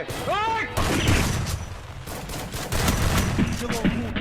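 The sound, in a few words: gunfire in a video game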